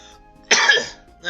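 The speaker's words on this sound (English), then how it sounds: "I gotta clear my throat." A single short, rough throat clearing, close and fairly loud, lasting about half a second.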